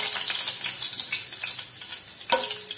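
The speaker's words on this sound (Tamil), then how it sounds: "இந்த சூட்டுலயே கொஞ்சமா கருவேப்பிலையை போட்டு பொரிச்சுக்கலாம்" Curry leaves dropped into hot oil on a stove that has just been switched off, giving a loud, dense, continuous sizzle and crackle up close with a sharp spitting burst near the end.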